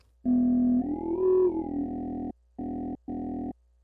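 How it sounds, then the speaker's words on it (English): A square wave from Ableton's Analog synth runs through an overdriven formant filter, one sustained buzzy tone whose vowel-like character sweeps up and back, then two short, clipped repeats of the same note, loud and alone. "I'm actually overdriving the filter right now"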